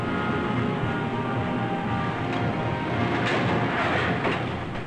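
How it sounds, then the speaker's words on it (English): Railroad boxcars carrying production parts roll into a Ford assembly plant in 1969, a steady loud rumble with rhythmic rail clatter and hiss that holds throughout and has no talk over it. "Every day, as many as 80 boxcars of parts arrive at each"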